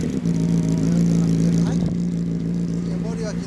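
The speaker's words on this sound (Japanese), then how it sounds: "ダブル R からエンジン音聞かせてもらえる？" A Honda CBR600RR motorcycle engine runs with a steady, loud, even drone through the whole stretch, with no sharp rev spike, while people talk over it nearby.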